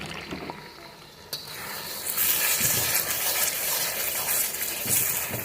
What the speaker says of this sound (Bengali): মিক্সির বাটি ধোয়া জলটা আমরা দিয়ে দিচ্ছি।